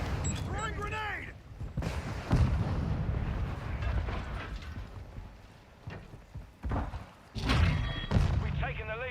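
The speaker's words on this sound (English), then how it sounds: "Throwing grenade!" A grenade detonates in the Call of Duty Modern Warfare II video game with heavy booming thuds amid ongoing gunfire, while in-game voices call out between the blasts.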